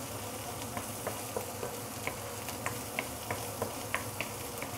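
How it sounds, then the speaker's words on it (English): Garlic, ginger and fermented soya beans saute gently in a pan, giving a soft steady sizzle with small scattered crackles and pops, fairly quiet and without speech. "this sauteing process, you only want to remove the earthiness from the fermented bean."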